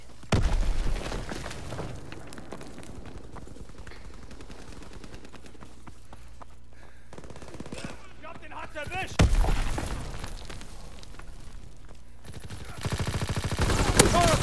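Gunfire from the World War II shooter Call of Duty WW2 in online multiplayer, with loud bursts near the start, around nine seconds and at the end, and quieter game sounds and talk in between.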